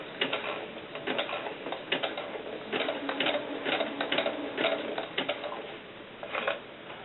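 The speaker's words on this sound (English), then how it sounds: "I'm going to start to sew" A sewing machine runs steadily as it stitches fabric stretched over a coil, a close, continuous mechanical whir with a rapid chattering rhythm of needle strokes that swells and eases slightly throughout.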